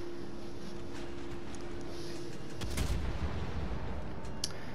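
Naval gunfire in World of Warships Legends, with a cruiser firing on an enemy ship broadside: a steady engine and sea rumble under a few distant booming shots, one heavier salvo midway.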